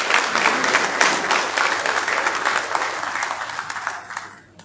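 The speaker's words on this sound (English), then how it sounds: "Ladies and gentlemen, shall we please celebrate them with a round of applause?" Sustained round of audience applause at a decoration ceremony for newly promoted senior naval officers, dense steady clapping from a large seated crowd that thins and fades out at the end.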